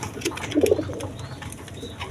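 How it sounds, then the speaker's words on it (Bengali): A pair of Gola pigeons with uncommon cream and ash colouring give a brief, soft cooing burst, close by, amid faint background noise. "এখানে এক পেয়ার গররা কবুতর রয়েছে"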